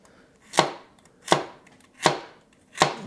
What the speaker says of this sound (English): Okay, we're going to slice this